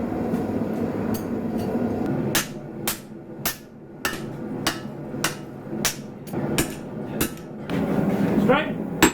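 Hand hammer blows forge-weld layered Damascus steel, a series of sharp, ringing metallic strikes in uneven clusters over a low workshop rumble, with a faint tone near the end.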